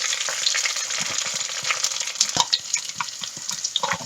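Chopped red onion and frozen curry leaves sautéing in a pan for crab masala, with a close crackling fry and irregular spatters and stirring taps that grow busier toward the end.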